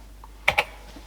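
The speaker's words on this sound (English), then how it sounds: "I've got to type run again" Two crisp, close keypresses on a Sinclair ZX81 computer keyboard, tapped in quick succession in an otherwise quiet room.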